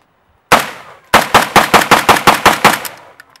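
An AK-47 fitted with a Dominator muzzle brake fires one loud, sharp shot and then a rapid string of about nine close shots in quick, even rhythm, each with a short ringing tail.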